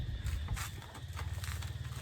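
A calf walks about on a farm after wandering in to eat and being chased off, its hooves giving a soft, uneven series of low thuds close by with no talking.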